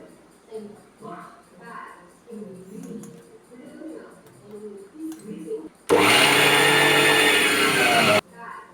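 A mixer grinder whirs loudly for about two seconds, grinding roasted groundnuts with jaggery to a coarse texture, a sudden harsh motor roar that cuts off abruptly; someone talks quietly before it starts.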